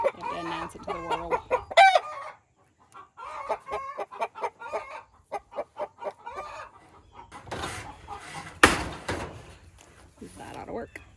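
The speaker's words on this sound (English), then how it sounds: "Chickens get really noisy every time somebody lays an egg." Hens cackle and cluck loudly in bursts after laying an egg, with a rooster-like squawk and a rattling clatter partway through, while a person talks intermittently.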